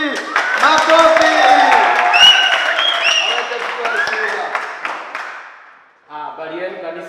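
A church congregation applauds to welcome a guest, steady clapping and cheering blended with loud voices, then fading out before a speaker's voice resumes alone.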